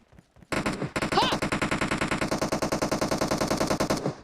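Automatic fire in PUBG, one long rapid burst of evenly spaced shots, loud and close, beginning after a brief silence and running to the end.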